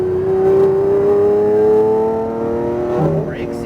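Lamborghini Aventador pulling hard under throttle on a racing track, a loud steady engine tone climbing in pitch and holding strong for several seconds before easing off near the end, with an instructor's voice briefly in the background.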